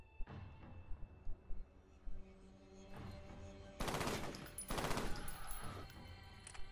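Gunfire from a weapon in the video game F.E.A.R., quiet scattered shots early on, then two louder bursts of rapid firing in the middle and later, each sharp and clustered, with no talk.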